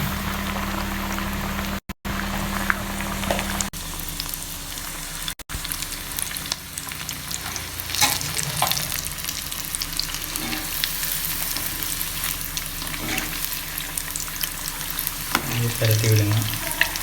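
Fish pieces for Kotthangudi-style fried fish crackle and bubble vigorously in hot oil, a dense continuous sizzle that stays loud and close, with brief dropouts and occasional clatters as pieces are handled.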